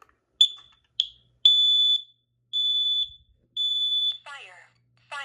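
A Kidde Nighthawk KN-COSM-B combination smoke and carbon monoxide alarm sounds its test: sharp, loud electronic beeps in a broken sequence, two short chirps then three longer tones, ending as a synthesized voice begins to speak.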